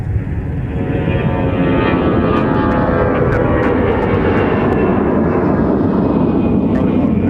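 Airliner taxiing at MSP airport, a loud, steady jet engine roar close by that holds without a break, with no talking.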